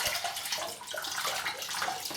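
Cold water runs steadily from a bathroom tap in a continuous, close, full-bodied hiss and splash with no pauses.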